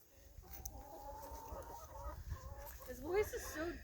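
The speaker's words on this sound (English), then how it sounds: "now he's starting to actually sound like a rooster" A rooster with Marek's disease crows in a strained, deep, odd voice. The wavering, drawn-out calls rise and fall over a few seconds, faint against a quiet farmyard background.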